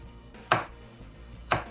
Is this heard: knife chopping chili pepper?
yes